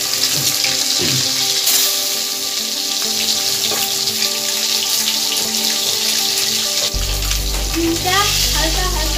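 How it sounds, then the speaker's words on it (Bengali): Eggs frying one by one in oil seasoned with salt and turmeric, a steady close sizzle and crackle with a few clinks of a utensil and a deeper rumble near the end. "ডিমটা হালকা হালকা ভাজা হয়ে গেলে"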